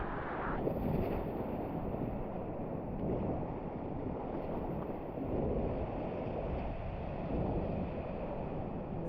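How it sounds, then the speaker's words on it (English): Heavy ocean surf roars continuously at a beach in Porto, Portugal, in February, a loud, dense wash of crashing water with no pauses. "Very strong waves."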